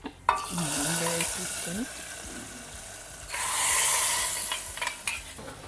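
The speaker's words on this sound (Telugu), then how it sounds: "తర్వాత జీలకర్ర వేసిన ఎండుమిర్చి ఇంకో ఎల్లిపాయలు కరివేపాకు ఇంగువ అంతే" A tempering of mustard seeds, cumin, dried red chillies, garlic, curry leaves and asafoetida for a spinach dal sizzles in hot oil in a pan, with a voice briefly over it before a louder burst of hissing frying.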